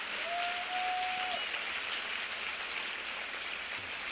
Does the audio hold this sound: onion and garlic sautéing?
no